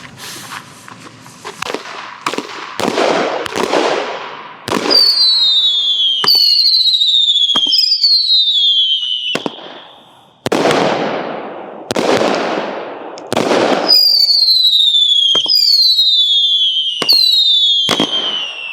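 American Muscle fireworks cake firing a rapid series of booming shots, several launching with rising whistles, bursts coming in clusters with brief pauses between.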